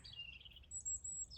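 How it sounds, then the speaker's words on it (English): Birds sing outdoors in a soft, continuous stretch of high warbling and whistled notes over a low background hum. "listening to the birds sing."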